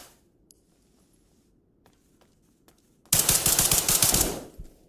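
Video game shooter gunfire: after near silence with a few faint clicks, a loud sudden burst of rapid shots erupts at close range and fades within a couple of seconds.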